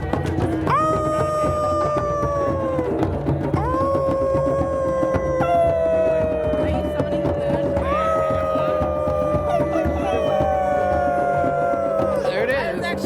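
Several people outdoors howl like wolves, their voices imitating long rising and falling wolf howls that overlap one after another over steady background noise.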